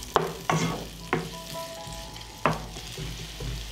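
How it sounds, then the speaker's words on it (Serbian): Onion and garlic fry in heated olive oil in a pan, a constant close sizzle broken by several sharp clanks and scrapes of a spoon stirring, with no one speaking. "Zagrejanu masnoću dodajem luk, dodajem beli luk i pržit ću dok luk ne omekša."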